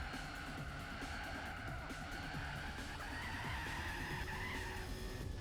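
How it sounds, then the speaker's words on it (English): Tires squeal and spin on a car in the Gran Turismo 4 racing game at Costa di Amalfi, a sustained screech over a steady engine drone. "Bit of wheel spin there."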